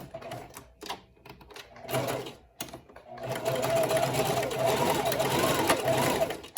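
A sewing machine runs a zigzag stitch through an N95 respirator mask, starting after a few short bursts and then buzzing steadily and close up, with brief talk at the start.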